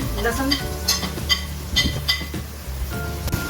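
Onion paste browns in a pan with added ginger paste, sizzling under repeated metallic clinks and scrapes of a spoon stirring against the pan.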